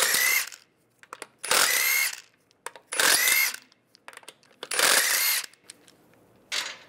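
A power tool fitted with a 17 mm socket removes lug bolts from a 1999-2005 Volkswagen Jetta front wheel, loud close whirring bursts of about a second each, four in a row with short pauses and a fifth starting, with ratcheting clicks between them.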